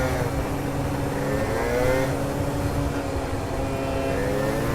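A scooter engine revs hard and steadily up close, its strained, droning whine holding loud and continuous throughout with no voices over it.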